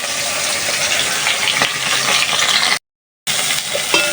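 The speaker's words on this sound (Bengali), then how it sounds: "তো সবগুলো মাছ আস্তে আস্তে বেজে নিলাম" Small fish frying in hot oil in a pan, with a steady crackling sizzle and a brief dropout of silence midway.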